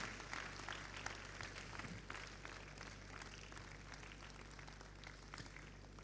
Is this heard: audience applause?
yes